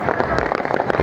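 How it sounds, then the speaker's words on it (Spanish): Firecrackers bursting at a street protest in Bolivia, a dense run of sharp crackling pops over a loud, agitated crowd. "Petardos, ruido, gente huyendo, gritando, empujándose"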